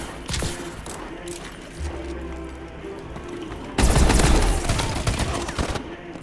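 Gunfire in Call of Duty: Advanced Warfare comes as scattered shots and short bursts, then a dense, loud volley erupts about midway and continues to the end, with no voices.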